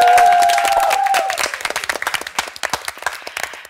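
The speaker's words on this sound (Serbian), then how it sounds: "Pozdravljamo svi jednim velikim aplauzom koučeve, publiku i vas, gledaoce." A studio audience at a televised singing competition show breaks into applause as a held musical tone fades out. The clapping is loud and close and continues steadily to the end.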